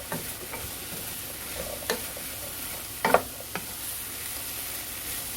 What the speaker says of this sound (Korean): 양파와 고기가 음, 어우러지도록 볶습니다